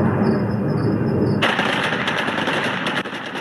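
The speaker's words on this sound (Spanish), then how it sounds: "con ráfagas de disparos al aire y bengalas en el cielo de Kabul" Bursts of automatic gunfire are fired into the air over Kabul at night, a loud rapid rattle of repeated shots that starts partway through over a steady background roar.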